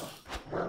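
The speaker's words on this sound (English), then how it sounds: "there's a dog" A dog in the video game Dysmantle gives a single short, faint bark with a growl.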